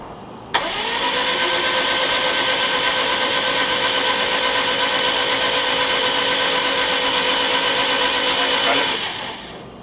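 A Subaru GC8 with a swapped-in 2006 STI engine fires up for the first time. It catches abruptly into a loud, steady, close-up drone that holds evenly for about eight seconds before cutting off, with no talking.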